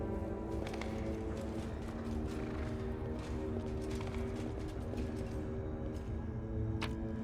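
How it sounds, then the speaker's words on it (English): Horse hooves clop steadily in Pathfinder: Wrath of the Righteous, a continuous rhythmic patter over a dense, constant game soundscape with a faint whinny-like tone, no talk. "Big horse."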